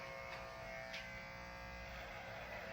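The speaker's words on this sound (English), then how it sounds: "just shaving my head now so that it's not decided for me" An electric razor buzzes steadily while shaving a person's head, a faint, even hum with slight changes in pitch as the clippers move across the scalp.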